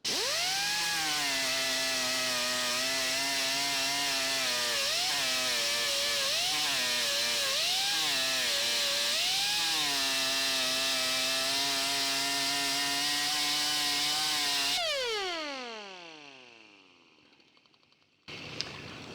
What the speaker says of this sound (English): I like to sort of run along the weld with the grinder